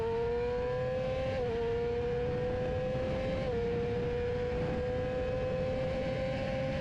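A racing motorcycle on a Pirelli rear tyre accelerates hard down the back straight, its engine a loud, steady high-pitched whine rising through quick gear changes, recorded close without any talk.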